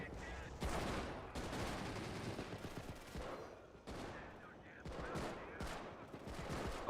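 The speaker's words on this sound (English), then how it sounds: "Couple more machine gunners and sniper." Bursts of machine gun fire mixed with sharper sniper shots ring out in a co-op shooter video game, dense and loud, with short pauses between volleys and faint voices underneath.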